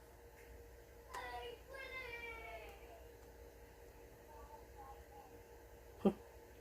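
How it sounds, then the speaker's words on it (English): Children playing with Legos chatter faintly in the distance against a quiet room, followed by a short sharp tap near the end. "You can hear the kids in the background."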